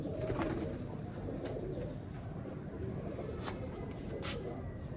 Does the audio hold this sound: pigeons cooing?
yes